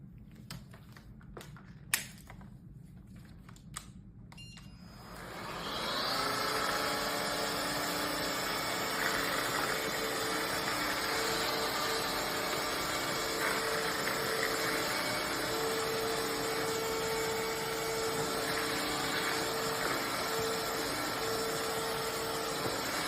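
A BISSELL CrossWave Cordless Max wet-dry vacuum mop powers up after a few clicks and runs with a steady, fairly loud motor whir and brush hum across a hard floor.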